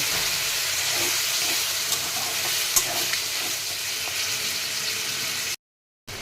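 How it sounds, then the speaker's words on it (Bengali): A spice paste with salt and a splash of water is fried and stirred in a pan, making a dense continuous sizzle with small scrapes and ticks, then cutting out briefly near the end. "মশলাটা যাতে পুড়ে না যায় তার জন্য অল্প একটু জল দিয়ে আর একটু কষিয়ে নেব।"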